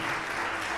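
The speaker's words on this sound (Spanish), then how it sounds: "Las mujeres aplauden, los hombres no." Women in a church congregation applaud during a sermon, a dense, steady patter of clapping heard briefly and fairly close, with no voices over it.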